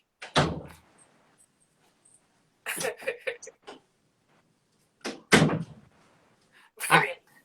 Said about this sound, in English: I closed the door and locked her in there.